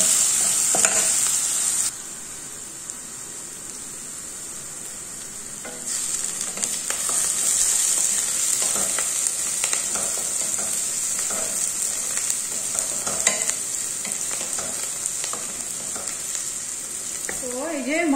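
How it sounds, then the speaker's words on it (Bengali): Onions frying in a hot pan, a steady close sizzle running throughout with intermittent scraping and stirring clatter from a utensil, no talking. "পেঁয়াজটা আমি একটু লাল লাল করে ভাজা ভাজা করে নিব।"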